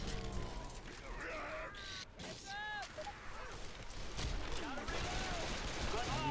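Gunfire from a Left 4 Dead 2 match: a continuous, dense volley of game gunshots and impacts running the full length, loud and close, mixed with excited shouting and chatter from players.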